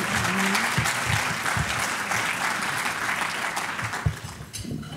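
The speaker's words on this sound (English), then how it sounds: "I hear one applause there." Steady, continuous applause from an audience at an annual meeting fills the whole stretch and thins slightly near the end.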